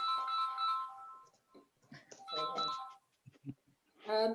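A telephone rings indoors in a quiet room, its repeated tonal bursts starting and stopping in a broken pattern, with faint activity in between.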